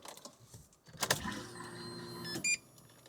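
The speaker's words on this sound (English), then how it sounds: "So cycle the fuel pumps a few times." Raceworks Aeroflow fuel pumps in a Nissan S15 Silvia cycle with a faint electric whir and hum, broken by a few sharp mechanical clicks and a brief buzz, quiet and close.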